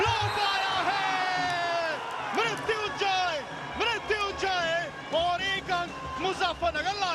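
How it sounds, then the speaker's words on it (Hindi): A kabaddi match crowd cheers and whoops around clapping, the noise rising and falling under an excited commentator talking almost nonstop. "तालियों के साथ अभिवादन हुआ है"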